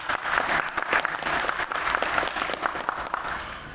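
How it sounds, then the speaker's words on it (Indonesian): Applause rises from the audience at an FKDM DKI Jakarta training session, a brief, dense patter of many hands clapping together, steady and moderately loud throughout. "Tepuk tangan."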